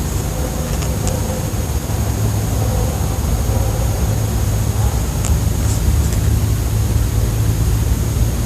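A car passes by outdoors in northwest Georgia, its steady engine and road noise forming a continuous broadband rumble throughout, with a faint high tone persisting above.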